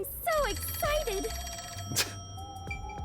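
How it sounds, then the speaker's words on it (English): Telephone ringing in the video game Rain Code, a repeated electronic ring tone sounding under overlapping voices in playthrough chatter, clear and fairly loud. "Don't tell me you don't know where the phone is."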